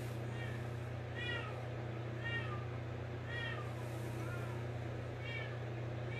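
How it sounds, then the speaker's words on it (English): A house cat meows several times at spaced intervals, moderately near, over a constant low electrical hum in a quiet room. "there's the kitty cat again"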